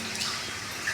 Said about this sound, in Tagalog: Makikita natin na tumutulo-tulo na talaga dito sa loob.